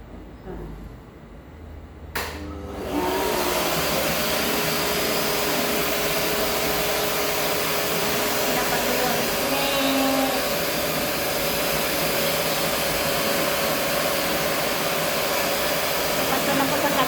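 After a short quiet start, a hair dryer drying a dog switches on and blows with a steady, loud whir that continues unbroken, close by.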